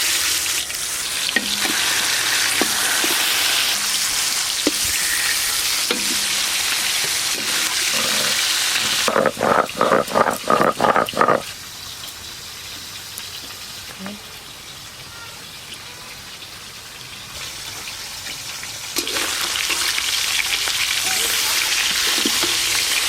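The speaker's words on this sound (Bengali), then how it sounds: "সরষের তেল, এবার রূপচাঁদ মাছগুলো খুব ভালো করে ভেজে নেব।" Rupchanda (pomfret) fish fry in mustard oil in a large wok with a steady, loud sizzle. Brief bursts of stirring or spattering come midway, with voices faintly audible in the background.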